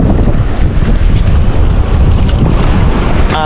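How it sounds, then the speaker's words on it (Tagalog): Strong northeast monsoon wind (amihan) at sea on a rainy day, heavy loud wind buffeting the microphone with rushing water and wave noise from a boat, continuous and roaring. "Malakas na naman ang amihan."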